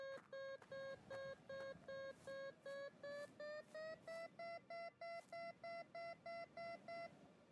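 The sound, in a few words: metal detector beeping, from video game Kathy Rain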